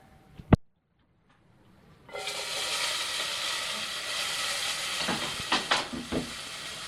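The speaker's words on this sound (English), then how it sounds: "From there, we're gonna add the onion." Chopped onion hits a hot pan and erupts into a loud, steady sizzle after a sharp clink and a moment of quiet, the hiss swelling slightly with a few spits and crackles near the end.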